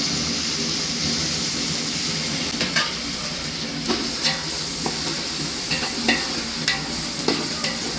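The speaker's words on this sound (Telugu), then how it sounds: "కొత్తిమీర పుదీనా కూడా పచ్చి వాసన పోయేదాకా ఇట్లా డీప్ ఫ్రై చేయాలి." Coriander and mint leaves deep-fry in oil with a continuous close sizzle, punctuated by regular soft scrapes and clinks of stirring against the pan.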